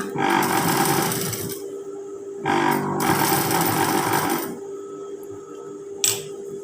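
Sewing machine stitching a hidden zipper into striped fabric, running in loud, close bursts of rapid mechanical whirring, with a short pause between runs and a sharp click near the end.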